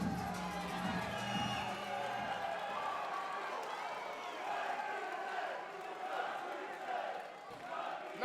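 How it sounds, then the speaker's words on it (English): Crowd noise at an amateur MMA title fight in an indoor venue, a steady roar of cheering and shouting from spectators with a commentator's voice over it. "brilliant crowd making some noise"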